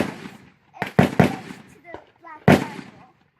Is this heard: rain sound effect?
no